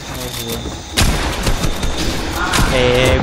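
Rapid bursts of gunfire crackle through a busy Fortnite game soundscape, with a sharp loud report near the start and someone talking over the shooting.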